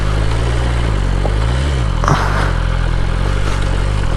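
A BMW S1000RR motorcycle with an engine fault rides a rough mountain road, its low steady engine drone continuous under wind rush, with a brief clatter or scrape partway through.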